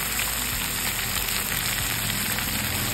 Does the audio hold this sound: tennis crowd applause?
no